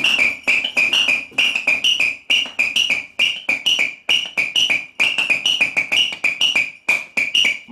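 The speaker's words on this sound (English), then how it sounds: "Hammers from Spain." Spanish martillos, hand-held percussion hammers, struck in a fast, steady rhythm of bright, sharp clacks, close and loud, with no voices.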